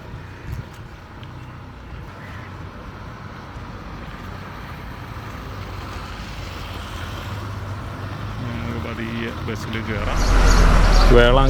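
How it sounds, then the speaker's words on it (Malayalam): A KSRTC bus slowly pulling out of a parking area at a bus stand, its engine a low steady rumble that swells louder near the end, heard beneath ambient noise. "നമ്മുടെ വണ്ടി പാർക്കിംഗ് ഏരിയയിൽ നിന്ന് പതിയെ മൂവായി തുടങ്ങിയിട്ടുണ്ട്"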